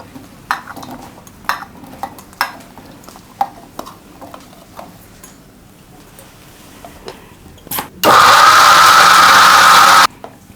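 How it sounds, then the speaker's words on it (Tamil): A mixer grinder jar blends ash gourd into juice: after scattered light taps and knocks, the motor roars in one loud, even whir for about two seconds before stopping. "நம்ம மிக்சி ஜாரில் போட்டு நம்ம அரைக்க போகிறோம்."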